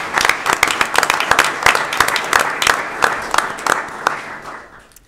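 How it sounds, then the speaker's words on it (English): A small group at a board of trustees meeting claps together, individual hand claps distinct and fairly close, steady for several seconds before tapering off at the end. "I suggest we give him a big round of applause"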